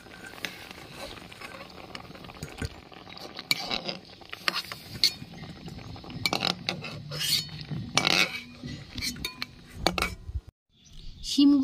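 Metal utensils clink and scrape against a pot as boiled beans are lifted out one by one, with irregular close clatters over about ten seconds and a brief pause near the end.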